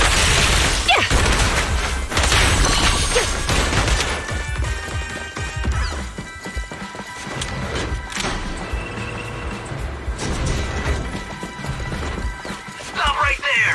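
Gunfire crackles in the video game Zenless Zone Zero as bursts of shots and impacts mix with crashes and game effects, with voices speaking over the action.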